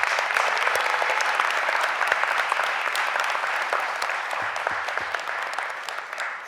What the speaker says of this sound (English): Give them a real big round of applause.